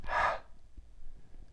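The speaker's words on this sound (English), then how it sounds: "now just taking a deep breath in, all the way to that pulse point" A single deep inhaled breath during a heartbeat meditation exercise, a soft airy rush lasting about half a second, then quiet room tone.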